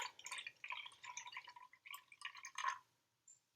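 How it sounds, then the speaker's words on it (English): Coffee poured into a glass of water gives a soft, close trickle with irregular splashes, pausing briefly and ending in a final small drip. "if I just pour the coffee in"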